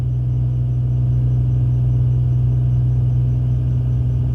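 Twin piston engines and propellers of a Cessna 310 drone steadily inside the cockpit, heard without noise-canceling headsets: a loud, constant low hum with no breaks and no talking.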